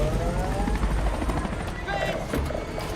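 A hijacked aircraft lifting away in a movie, a steady rotor-like thrum with a rising whine beneath, continuous and fairly loud, under excited reactions from viewers.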